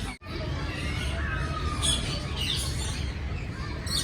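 Parrots squawking and chirping in a zoo enclosure at a nature park, loud, harsh calls rising over a dense, steady background of crowd and bird noise throughout.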